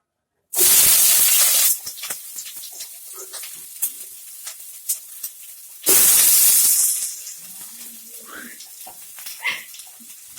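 Chopped onion, cut potato and small whole garlic cloves hit hot oil in a pan for a chicken curry with green chillies, giving two loud bursts of hissing sizzle that settle into quieter frying with stirring clinks, under occasional speech.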